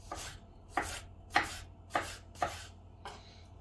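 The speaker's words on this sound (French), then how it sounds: "il n'y a plus qu'à émincer, à peu près la même taille que l'oignon" A knife slicing bell pepper on a cutting board, five crisp, evenly spaced cuts close up, with a faint sixth at the end, each a sharp tap against the board.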